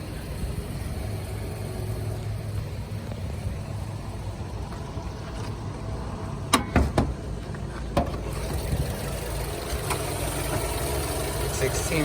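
A 2011 Mazda6 i Sport's V6 engine idles with a low, even hum, steady throughout, broken by a few sharp clicks partway through.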